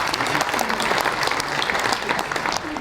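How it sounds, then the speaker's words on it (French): An indoor audience claps steadily for a cyclist being congratulated at a presentation of the Tour 79 race. The applause is dense and sustained across the whole moment, with faint voices mixed into it. "félicitations, applaudissements pour M. Gabin."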